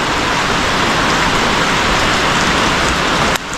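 Steady, dense rain falls outside a barn, a continuous even wash of drops drumming without pause until a slight change near the end; no voices.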